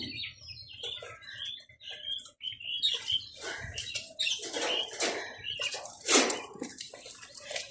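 Laying quail in a pen give short high chirps and calls, along with brief fluttering wing bursts and scratching, close up and irregular with quiet gaps between.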